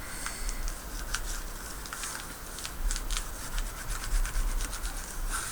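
Folded paper card box lid pressed flat by hand, giving a steady soft rubbing and scraping of paper with faint crinkly ticks, close and fairly quiet throughout with no talking.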